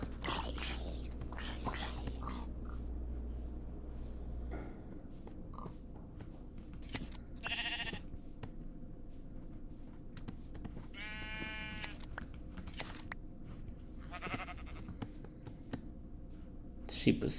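Sheep in the video game Minecraft bleat in several separate bursts over a steady game background, one of them longer and louder than the rest. Faint scissor-like snips and whispering sounds come through between the bleats.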